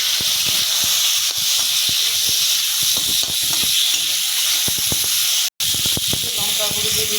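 Tomatoes tipped into onions already fried with salt and turmeric in a pan in a rural Bengali home kitchen, giving a steady, loud broadband sizzle that runs throughout with scattered clatters and a brief dropout near the end.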